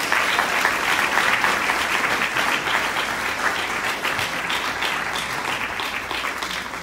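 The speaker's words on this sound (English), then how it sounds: "go ahead and give our panel a round of applause." An audience at a physique summit applauds a Q&A panel, giving dense, continuous clapping that holds steady and then eases slightly toward the end.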